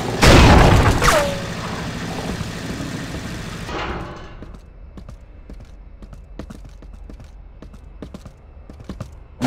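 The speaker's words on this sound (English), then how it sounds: "See if you can ricochet a bolt against the wall and hit the target." In the Unreal 2 game tutorial, a loud booming explosion rumbles and fades, then a quieter stretch with scattered sharp clicks and impacts follows.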